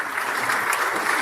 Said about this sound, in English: Can you give another round of applause,